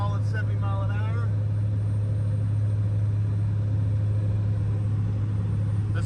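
A truck cruising steadily at 70 mph on cruise control, heard from inside the cab as a constant low engine drone with road rumble, while a voice speaks briefly at the start.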